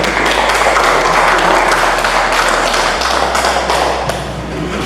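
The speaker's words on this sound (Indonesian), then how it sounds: "Tepuk tangan dulu" A classroom full of students claps together in a dense, sustained burst of applause that stays loud throughout, with a few thumps mixed in and a low steady hum underneath.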